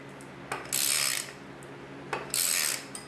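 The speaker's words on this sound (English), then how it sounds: "We're going to torque this down to 100" A wrench torques down a bolt on a Nissan 240sx SR20DET swap to 100 foot-pounds with a crowbar holding the driveshaft, giving two close ratcheting bursts of clicks with short pauses between.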